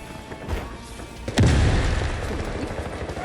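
A grenade explosion in the shooter game Delta Force lands as a sudden loud, deep boom partway through, followed by a sustained rumbling roar of debris and gunfire-like crackle.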